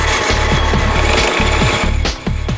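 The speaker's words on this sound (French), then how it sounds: "Il essaie de modifier le pignon sur le tour, mais il a beaucoup de mal à entamer ce métal extrêmement résistant" A lathe cuts into an extremely hard steel replacement sprocket for a Harley chopper, giving loud continuous grinding with a rapid rhythmic chatter of the tool against the metal, with no voices.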